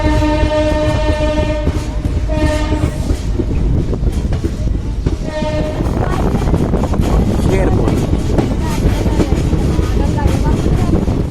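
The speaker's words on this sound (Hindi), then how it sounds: "अब जाके हॉर्न दिया है" A passenger train on the Najibabad to Gajraula line in India sounds its horn as it departs, with two loud, sustained tonal blasts over the heavy rumble and clatter of the moving carriages, heard from on board.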